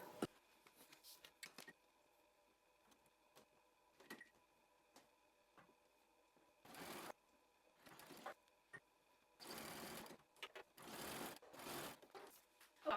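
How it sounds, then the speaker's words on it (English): A home sewing machine running a stretch stitch to attach elastic to a skort pocket, several short whirring runs of stitching separated by quiet gaps, soft and close, with no talking. "We're going to use a stretch stitch, a zigzag, or a serger."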